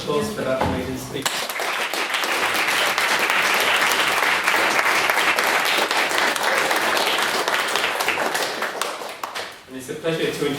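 Sustained audience clapping follows a speech at a formal debate on funding Mars exploration, swelling after a brief spoken line and holding steady and dense for several seconds before a voice returns at the end.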